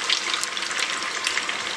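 Raw wild amla sizzling and bubbling in hot oil over a medium flame, a steady close crackling hiss with scattered sharp pops.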